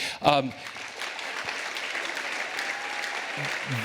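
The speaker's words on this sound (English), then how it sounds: "she deserves a round of applause for that." Audience applause at an air-quality summit's gubernatorial forum: a short burst of clapping near the start, then a steady wash of hands continuing at moderate level through the rest.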